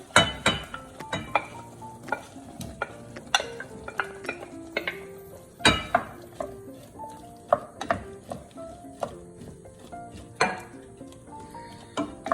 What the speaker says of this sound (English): Now we are going to add our watermelon rind in there.